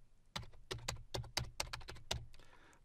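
Quick bursts of close keystrokes on a computer keyboard while a PowerShell command is entered, about a dozen crisp clicks in an uneven rhythm, quiet and with no talking.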